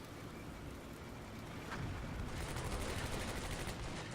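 Tank cannon fire between a Sherman and a Panzer IV in the Combat Mission Beyond Overlord war game, a loud rumbling barrage of blasts and booms that swells midway and keeps roaring densely to the end.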